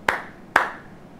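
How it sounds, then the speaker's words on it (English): Two sharp hand claps, close and crisp, evenly spaced about half a second apart, each with a short ringing decay and no talk. "Let's clap twice."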